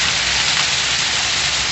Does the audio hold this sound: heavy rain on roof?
yes